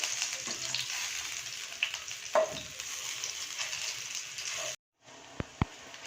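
Poha snack pieces frying in oil, a steady close sizzle with a few clinks and stirring touches, then a brief cut followed by two sharp taps, no talking.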